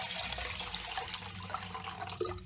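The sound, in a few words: pouring fresh water onto settled maida flour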